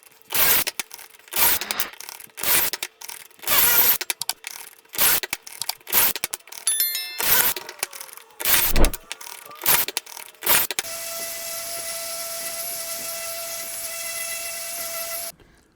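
Pocket holes being drilled into wooden pieces for a wine rack: a series of short, loud, whirring drill bursts, about a dozen in an uneven rhythm with brief pauses, followed by a long steady whining hum from a nearby power tool.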